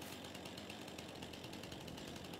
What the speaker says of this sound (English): we're going to cut them down with the chainsaw